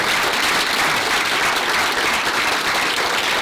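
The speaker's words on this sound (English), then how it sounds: "Round of applause, please, for Danielle and Dean" Audience applause for Danielle and Dean at a leadership talk in a hall: dense, steady clapping from a large crowd, loud and sustained throughout with no pauses.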